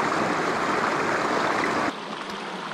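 A Nova Scotia trout brook flows with a steady broadband rush of water, loud and close for most of the stretch, then drops abruptly to a softer, thinner trickle near the end.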